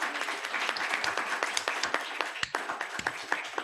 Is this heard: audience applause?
yes